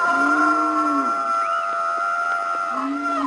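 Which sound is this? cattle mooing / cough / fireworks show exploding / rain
cattle mooing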